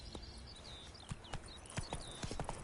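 Roach, a horse in The Witcher 3, trots with hollow clip-clopping hooves in an irregular rhythm over a steady ambient bed, fairly quiet and alone, with faint birdsong above.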